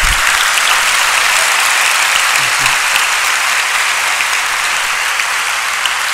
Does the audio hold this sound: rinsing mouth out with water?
no